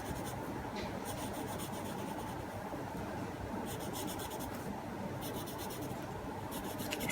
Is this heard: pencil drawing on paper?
yes